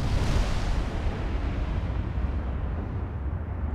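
18-inch guns on a G-Class super battleship in the naval game Ultimate Admiral: Dreadnoughts, heard as a heavy, booming roar of gunfire and rumble that fades slowly, loud and close with no talk.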